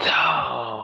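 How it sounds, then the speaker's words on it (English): A single loud dog bark or yelp sounds close by, a short harsh burst that tails off within a second. "that was just a dog"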